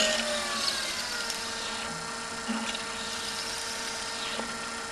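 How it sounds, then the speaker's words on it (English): A power drill steadily bores a hole through wood with a long drill bit, a continuous whirring drone with small shifts in pitch as the bit moves back and forth, fairly close and without speech. "I'll go ahead and bore a hole through the remaining part of this"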